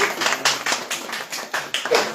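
An audience at a Christian worship gathering claps in a steady, rhythmic beat, roughly four claps per second, bright and fairly close, with no talk over it.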